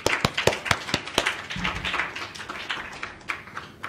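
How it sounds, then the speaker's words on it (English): Scattered applause for award winners and organizers at an engineering award ceremony, a small group clapping in quick uneven bursts that thin out and fade over a few seconds. "may I now offer a round of applause to all the winners as well as the IET organizers"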